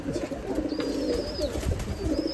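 Giribaz pigeons coo softly at a pigeon farm, low rounded calls repeating over a busy background with a faint high whistle passing through, no speech.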